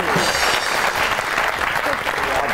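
A studio audience applauds a guest's entrance on an Eid-special comedy talk show, dense and steady clapping throughout with voices mixed in.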